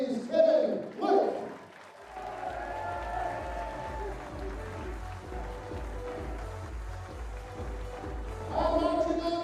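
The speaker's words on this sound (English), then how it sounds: "A massive round of applause as he leaves the stage for the USA's Kevin Luke" Audience at the WDF 2024 World Championship darts applauding as a player leaves the stage, a steady moderate wash of clapping beneath a commentator's voice, fading slightly toward the end.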